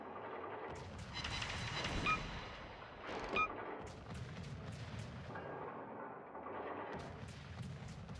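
Naval gunfire in the World of Warships game: deep booming salvos over a continuous low rumble of engine and sea, with two heavier blasts standing out early and more shots scattered afterward.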